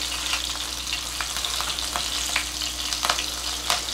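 Chopped green chillies and asafoetida frying in hot oil after cumin, a continuous close sizzle with scattered crackles and pops, steady throughout with no talk.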